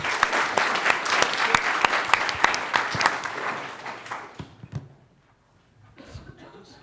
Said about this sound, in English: let's give a big round of applause for FriendSay